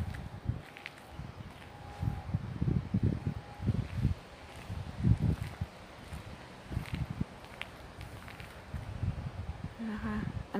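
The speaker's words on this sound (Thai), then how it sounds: "ลมแรงนะคะ" Strong wind blows outdoors in Denmark at half past five in the morning, a steady broadband rush with louder gusts and low rumbling buffets, with scattered light knocks and rustles throughout.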